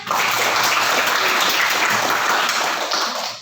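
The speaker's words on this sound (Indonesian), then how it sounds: "Oke, tepuk tangan dulu nak." Students in a classroom clap their hands together in a dense, even burst of applause lasting a few seconds, moderately loud and heard on its own.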